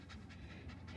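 A dog in the back seat of a car pants rapidly and rhythmically in short bursts, close and fairly quiet, with no one speaking.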